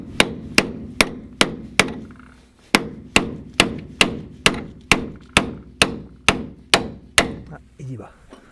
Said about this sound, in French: Je vais essayer avec un petit burin de le faire tourner.